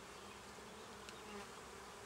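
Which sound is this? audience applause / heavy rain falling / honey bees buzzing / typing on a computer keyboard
honey bees buzzing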